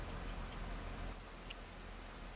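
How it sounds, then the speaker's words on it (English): Rain falling on a forest farm, a faint, steady hiss of drops with a few soft individual patters over a low rumble, continuous through the short stretch. "That rain really is starting to get annoying"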